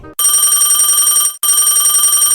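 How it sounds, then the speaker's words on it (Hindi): A telephone bell rings loudly and continuously, breaking for a brief pause before ringing again, close by with no other sounds. "फोन आवत है"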